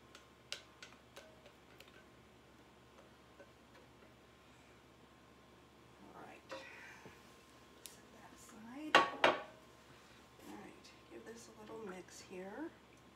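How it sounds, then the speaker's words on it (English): A spatula scrapes the inside of a bowl while soap is being made, a run of soft scraping strokes from about six seconds on, the strongest near nine seconds, with quiet ticks and taps earlier. "And scrape this bowl best I can"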